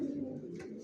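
Racer pigeon squabs cooing softly, a low steady murmur lasting under a second, faint and close.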